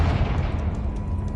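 A Confringo spell blast in Hogwarts Legacy lands as a dense, low rumbling boom that fills the whole moment, loud and close with a sustained explosive roar and no voices.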